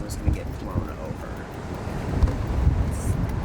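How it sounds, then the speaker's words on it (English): Strong wind howls and buffets outside a camper van parked in Maui, a continuous low roaring rush close to the microphone with gusts swelling and easing. "It's howling windy."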